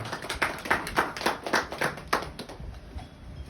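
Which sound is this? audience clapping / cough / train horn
audience clapping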